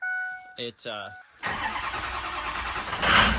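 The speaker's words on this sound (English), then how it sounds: "look, it fires up, it runs, it drives." After a short burst of talking, a Ford F350 with a 6.0 Powerstroke diesel cranks and fires up, then settles into a loud, rough, continuous run nearby.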